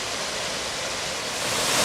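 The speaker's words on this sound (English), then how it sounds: "this is the Lower Doyles River Falls" Lower Doyles River Falls in Shenandoah National Park, a waterfall about 63 feet tall, pours with a steady, dense broadband rush that swells slightly toward the end, heard up close with no voices.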